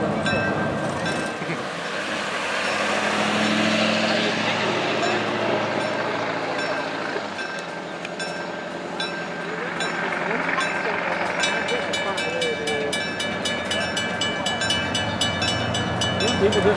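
The Spirit of Urbana excursion passenger train rolls slowly into a depot, its heavy engine rumble and rail noise steady throughout, with a bell-like ringing toward the end.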